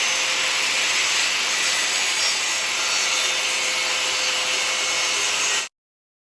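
Circular saw cutting diagonally through plywood hardboard, a loud, steady high-pitched whine and rasp that holds for several seconds, then stops abruptly into silence.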